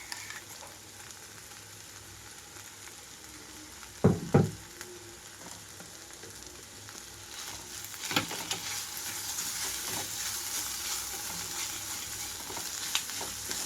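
Snake gourd pieces fry in a pan with ground chili masala of fresh coconut and garlic, a steady, close sizzle broken by a few sharp scraping stirs.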